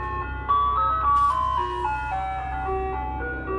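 An ice cream truck plays its tinkling melodic jingle nearby, a steady music-box tune running over a low engine rumble, with no talk.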